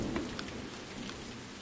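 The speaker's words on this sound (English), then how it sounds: "Beat the rain." Steady rain falling outdoors around a stone house being renovated, a soft, even hiss with scattered faint drops and a low rumble, quiet and continuous with no voices.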